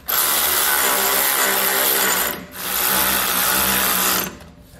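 A power tool drives and snugs down mounting bolts on Firestone Ride-Rite air helper springs fitted to a 2016 Ford truck, running loud and steady in two long bursts separated by a brief pause.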